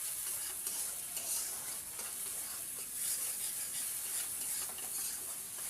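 Spices with turmeric fry in oil, a soft, steady sizzle with light, repeated stirring scrapes, fairly quiet and close, no talking.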